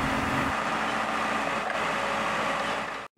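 A tractor engine runs steadily at close range while digging up a septic tank, a low droning chug with a faint high whine that cuts off abruptly at the end, with no talk.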